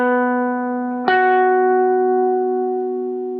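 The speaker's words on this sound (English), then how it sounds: "Which brings us neatly on to the perfect fifth, which sounds like this." A perfect fifth interval played as two sustained tones, the first note sounding alone before the second note enters and both ring together and slowly fade.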